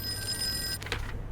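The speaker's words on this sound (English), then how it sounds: "that's our phone" A telephone in the Call of Cthulhu video game rings with a steady electronic bell tone, then cuts off into a brief burst of noisy rustle.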